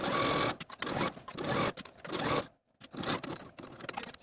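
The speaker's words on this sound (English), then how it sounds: "we're going to sew our bias tape to this curved edge of the apron from pin to pin" Sewing machine stitching bias tape along the curved edge of an apron, running in bursts with short pauses between, fairly close and moderately loud, with no talking.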